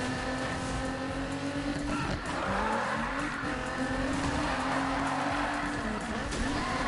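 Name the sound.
car drifting with tire squeal in a PS4 racing video game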